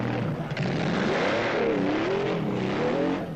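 Factory Porsche rally cars race in the 1985 Paris-Algiers-Dakar rally, a continuous close engine drone that wavers up and down in pitch as they accelerate.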